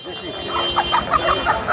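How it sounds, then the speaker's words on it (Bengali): A native rooster clucks in short, close, repeated bursts at a busy village poultry and vegetable market, with faint background voices underneath. "দেখি দেশি মোরগ"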